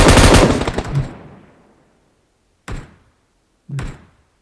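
Video game gunfire: a loud, rapid burst of shots that rings out and fades, followed after a pause by two single heavy reports spaced about a second apart, each with a short decaying tail.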